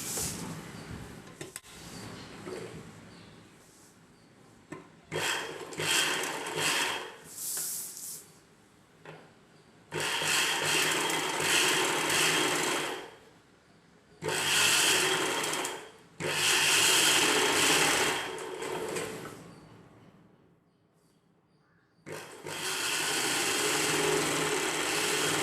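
A sewing machine stitches umbrella-cut dress pieces together in several bursts of rapid whirring, each running a few seconds, separated by pauses of near silence, close and fairly loud.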